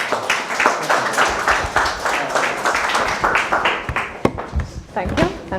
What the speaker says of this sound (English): Please give a warm round of applause for Marika Maschorov.